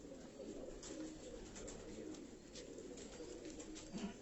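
Breeder pigeons in a loft setup cooing faintly, a soft continuous murmur of low coos under a steady background hiss, with no talk.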